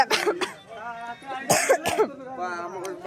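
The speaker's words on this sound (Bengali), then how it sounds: "আমার প্রচণ্ড কাশি হয়েছে" A woman's harsh coughing and throat clearing, a few short bursts close to the mic, mixed with talking and voices in the background.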